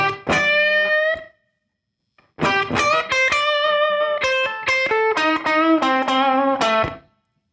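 A slow electric guitar blues phrase with a slightly overdriven tone: a brief opening figure, a pause, then a longer run of bent notes fading out.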